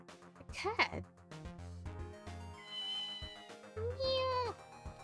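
A cat meows in the Nintendo DS game Ghost Trick: Phantom Detective, with two or three short, clear meows set against the game's soft background music.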